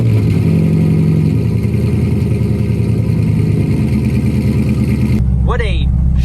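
A C5 Corvette engine running loudly and steadily after a long spell in storage, a rough mid-pitched idle that cuts out sharply near the end, followed by a brief voice.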